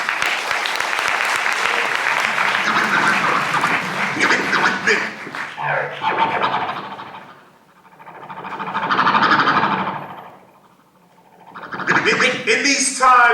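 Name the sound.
audience applause for DJ Razor Ramon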